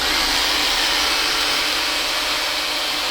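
A vacuum cleaner runs close by in a garage where sawing and cleaning were going on, producing a loud, steady, unbroken whine and hiss that never changes.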